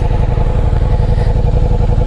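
Ducati Diavel V4 motorcycle exhaust running close and loud at a steady idle, a deep rapid pulsing burble with faint mechanical clatter throughout.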